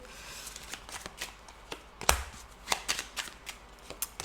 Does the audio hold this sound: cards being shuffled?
yes